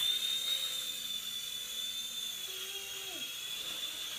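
An Air Hogs Axis 300X RC toy helicopter whines steadily with a high, thin motor drone, then its pitch sweeps as it loses control.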